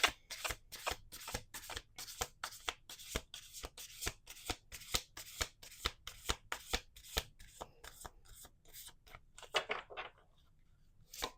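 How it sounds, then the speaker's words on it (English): Playing cards are riffled and bridged in a rapid run of crisp, close flutters, about two dozen sharp bursts in a steady rhythm before tapering off into quiet. "Let's do 2 more shuffles."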